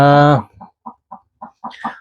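A farm hen in Canada clucks in a series of short, evenly spaced low clucks, close by, after a brief higher-pitched call at the start.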